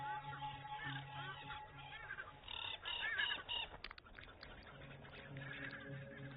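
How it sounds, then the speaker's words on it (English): A small gaggle of geese in the African grassland, honking and cackling in a series of nasal calls, under a narrator's voice. "This leopard has zeroed in on the sound of a small gaggle of geese in the distance."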